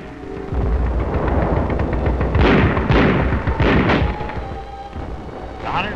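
155 mm artillery guns firing in a World War II setting, a dense rumbling barrage with several heavy booming blasts overlapping in a loud, continuous roar.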